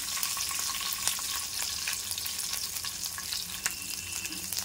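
Whole garlic cloves and green chilies sizzle in hot oil with cumin seeds in a pan, a steady close crackling hiss with scattered sharper pops and occasional stirring scrapes throughout.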